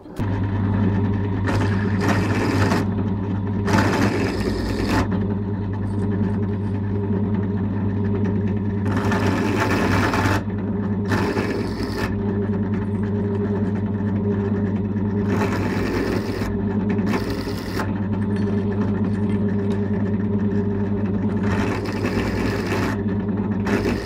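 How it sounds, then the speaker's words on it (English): A drill bit cuts a chamfer into a wooden bridge for a cigar, tenor guitar, electric ukulele or mandolin, a steady motor hum with repeated bursts of bright cutting noise as the bit bites in and lifts away, close and loud. "We're using the drill bit to make the chamfer because we can't get into this corner here with the standard countersunk part bit."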